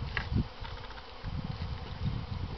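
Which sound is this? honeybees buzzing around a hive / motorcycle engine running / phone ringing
honeybees buzzing around a hive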